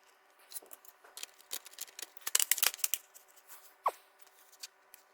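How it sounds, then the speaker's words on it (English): Screws go back into a Dell Inspiron 3500 series (3593) laptop during a battery replacement, heard as quiet close-up clicks, taps and brief scratchy handling noises in scattered bursts, with one short higher squeak near the end. "Dress the wire a little bit and start putting the screws back in."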